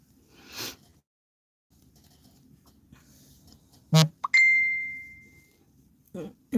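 A single bright ding with a sustained ringing tail sounds from a phone as a text message arrives, loud and close, with someone speaking before and after it.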